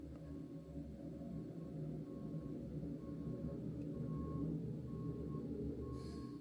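A truck's reversing alarm beeps at a steady, even rhythm, about six evenly spaced tones, moderately distant over a low rumbling engine and outdoor background noise.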